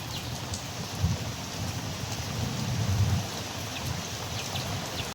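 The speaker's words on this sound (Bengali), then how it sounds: "এত বৃষ্টি হইতেছে রে ভাই" Heavy rain pours down in a dense, constant hiss, with low rumbles swelling briefly underneath.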